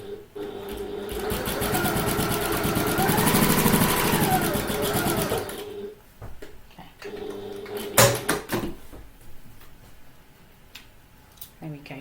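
Domestic sewing machine running in one long steady burst as bag handles are basted into place on a handbag, then stopping, followed by handling clatter and a sharp knock.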